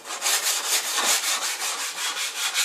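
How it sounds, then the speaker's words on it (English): Sandpaper rubbing along the rounded edge of a wooden board in quick, steady back-and-forth strokes, close and fairly loud, with no talking. "finish it off with sandpaper"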